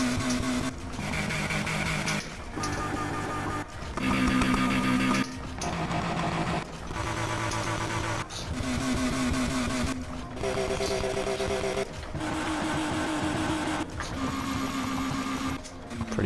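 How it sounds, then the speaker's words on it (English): Car engines revving in Need for Speed Heat, a series of loud, sustained engine notes in bursts of roughly one to two seconds, each cut off by short gaps, with a different tone and pitch from burst to burst. "So you can actually hear what they sound like with the different engines too."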